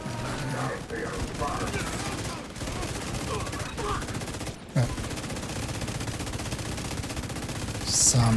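Sustained video game gunfire rattles in rapid automatic bursts for several seconds, loud and dense, with a couple of brief pauses and a sharper report near the end.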